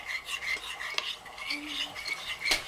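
A spoon clinks and scrapes against a bowl while an oyster sauce and cornstarch sauce mixture is stirred, in quick irregular taps with no talking.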